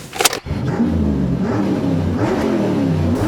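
A Toyota Corolla's engine revs hard under acceleration, a loud continuous mid-pitched drone that climbs and dips in pitch after a short burst of noise at the start, with no talking over it.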